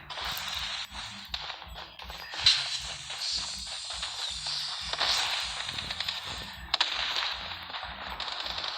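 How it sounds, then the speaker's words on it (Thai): Video game gunfire crackles almost nonstop, with rapid overlapping shots and a few sharper bangs in a dense, noisy mix. "โอ้เสียงปืนเต็มเลยเพื่อน"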